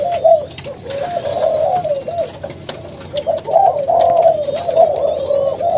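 Young spotted doves coo in soft, repeated rolling phrases, close and clear, with a few faint chirps behind them and no speech.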